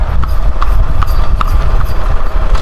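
A horse's hooves clip-clop steadily on a road in the countryside of Rizal, Laguna, an even walking rhythm of sharp knocks over a loud, rumbling background of wind or passing traffic.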